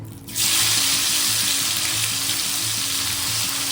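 Chicken pieces frying in hot oil in a pan for biryani with browned onion mixed in: a loud, steady crackling sizzle bursts in after a brief moment and continues without pause, with a faint low hum underneath.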